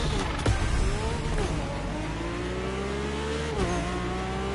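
Mercedes-AMG One hypercar engine in The Crew Motorfest time-attack race, a loud, close, high-pitched whine rising and dropping through gear shifts, with brief sharp bursts near the start and a downshift blip late on.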